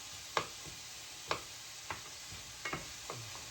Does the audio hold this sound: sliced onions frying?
yes